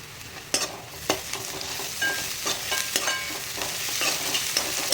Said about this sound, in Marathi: त्याला सुद्धा परतून घ्यायचं आहे छानपैकी तेलामध्ये.